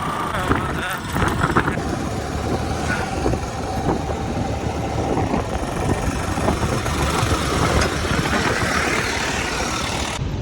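Motorcycle engine while riding on a road in Chhattisgarh, a steady, close, buzzing drone with constant wind rush and no pauses, with a voice talking faintly over it.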